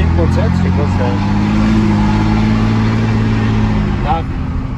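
Dodge Ram pickup with a 5.7 engine and straight-pipe exhaust, idling with a loud, steady deep rumble that holds throughout, while people talk over it.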